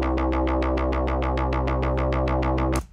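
Synth preset made in Serum playing a fast, evenly pulsing sequence of plucky repeated notes over a steady low droning tone, loud and alone, cutting off abruptly at the end.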